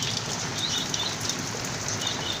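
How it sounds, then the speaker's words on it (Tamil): Heavy wind-driven rain on a rooftop in Chennai hisses as a steady, dense wash of drops, close and continuous, with a few brighter patters breaking through. "காற்றோடு கூடிய மழை. இடி இருந்தால் நான் மாடிக்கு வரவே மாட்டேன்."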